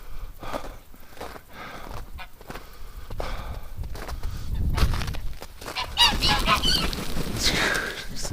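Geese on a winter farm honking in a loose flock, repeated nasal calls that grow louder and busier toward the end, mixed with clucking and outdoor rustle.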